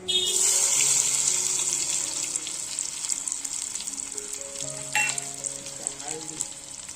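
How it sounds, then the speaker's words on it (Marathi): Onion and garlic fry in hot oil in a pot, giving a close, loud, bright sizzle that eases off over several seconds, with a few stirring scrapes and no talking. "पहिला पण तेल टाकलाय टोपात आणि त्यात कांदा आणि लसूण"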